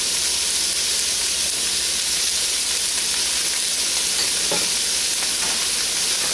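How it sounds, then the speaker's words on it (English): Snow peas and bean sprouts fry in a lightly oiled pan for lo mein, giving a steady, close sizzle and hiss with faint stirring scrapes throughout. "I'm now going to add the snow peas, a small handful of the bean sprouts"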